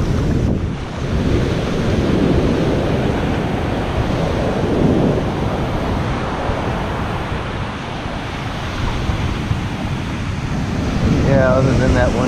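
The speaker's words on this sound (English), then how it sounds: "I think the surf is supposed to lay down a little tomorrow." Ocean surf breaking on a beach after a hurricane, a loud continuous wash of waves with heavy wind buffeting the microphone, steady throughout with a brief voice near the end.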